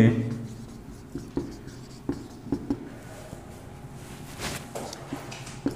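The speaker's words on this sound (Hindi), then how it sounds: "हाथ इसमें नीचे आप थोड़ा सा लिख लीजिए चार्ल्स मेके" A pen writes on paper during a school English lesson, making short scratchy strokes and small taps spaced through a few seconds, close and clear, with a brief voice at the start.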